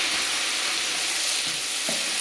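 Green chillies, mint and coriander leaves sizzle in hot oil for dham biryani: a steady, close, dense frying hiss that runs unbroken with no voices, a couple of slight soft shifts as the leaves settle.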